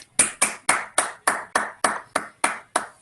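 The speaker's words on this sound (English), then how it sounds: "Let's all give Yair another round of applause." An online seminar audience claps for a speaker, about ten separate, evenly spaced claps close to the microphone, fairly quiet and with no voices.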